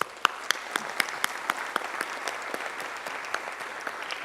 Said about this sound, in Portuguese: Uma salva de palmas a todos eles.